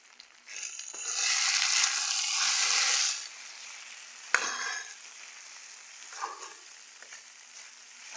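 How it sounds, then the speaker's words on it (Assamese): Ginger garlic paste fries in hot oil while being stirred, a bright loud sizzle for a couple of seconds that settles into a softer crackle, then sharp scraping stirs and a few short spatters, close up with no talking. "আৰু অলপ টাইম এনেদৰে ভাজি ল'ম।"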